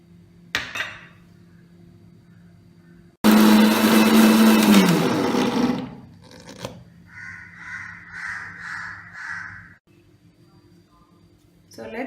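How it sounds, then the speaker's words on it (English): A mixer grinder grinds sugar and cardamom, making a loud whirring burst of about two seconds that winds down, with clattering before it and brief talking afterward. "I am going to grind the sugar and the cardamom together"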